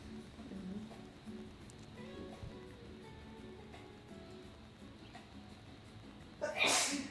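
A sneeze bursts out near the end, short and fairly close, after a stretch of low background murmur and faint talk-like sound.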